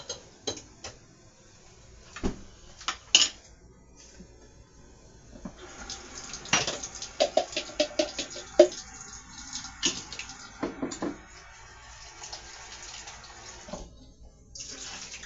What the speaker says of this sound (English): I just washed off some mushrooms to put into my cabbage.